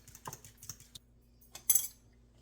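Eggs mixed into slightly melted butter in a glass bowl for mango bread: faint, irregular clicks and taps of a utensil against glass, with a brighter clink near the end and quiet gaps between strokes.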